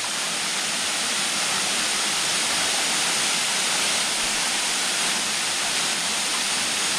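Waterfall at La Rejoya de Camú near Puerto Plata, a steady loud broadband rush of falling water that stays constant and close, with no voices.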